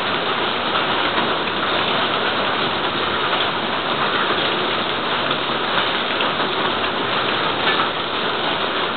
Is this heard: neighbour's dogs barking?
no